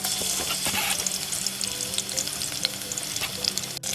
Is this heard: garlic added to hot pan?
yes